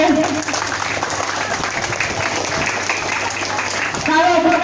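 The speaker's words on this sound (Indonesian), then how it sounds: "Beri tepuk tangan untuk ibu-ibu kalian." A crowd at a primary school farewell applauds the pupils' mothers, dense clapping under a voice talking, swelling again at the end.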